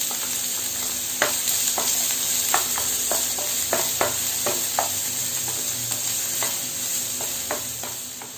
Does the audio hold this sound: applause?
no